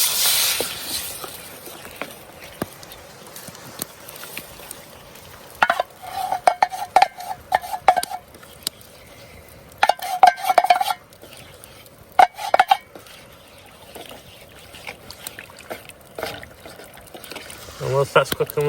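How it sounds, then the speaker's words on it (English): Curry sauce poured into a pan with beef, then stirred, making sloshing, scraping and gentle bubbling sounds close by, continuous for the whole stretch with occasional louder clinks of the utensil. "So now we'll just add the curry sauce to the mix."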